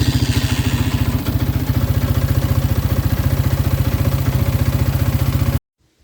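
Bighorn 400 UTV engine running after a fuel filter change, a close, loud, steady chugging idle with rapid regular pulses and mechanical clatter that cuts off abruptly near the end.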